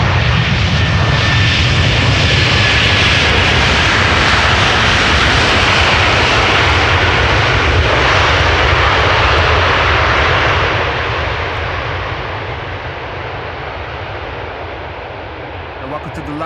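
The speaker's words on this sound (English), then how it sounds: "Delta Airlines Flight 236 spooling up the reversers there" Delta Airlines jet airliner on landing at Amsterdam Schiphol Airport, thrust reversers spooling up into a loud, broad roar that holds steady and then eases off toward the end, heard from outside with a voice faintly present.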